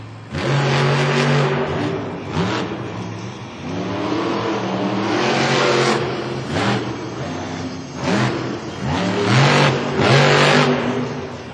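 Monster truck engine revving hard on an indoor Monster Jam stadium track in Cleveland, a loud, continuous roar that rises and falls through repeated throttle surges, close and sustained with no talking.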